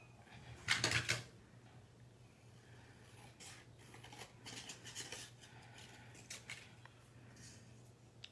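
Scissors cutting around black cardstock for a handmade Christmas card, a brief louder snip near the start followed by faint, sparse cutting and paper handling sounds close by.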